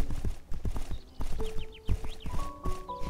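Horse hooves clip-clopping in the video game My Horse: Bonded Spirits, a rhythmic series of close, fairly loud hoofbeats over the game's background music and bird-like chirps.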